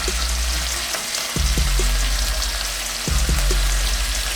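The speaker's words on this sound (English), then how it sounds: "Make sure this bacon cooks evenly." Bacon frying in a pan for an Irish breakfast, a loud steady crackling sizzle up close, broken by a few brief knocks and shifts of the pan, with no talking.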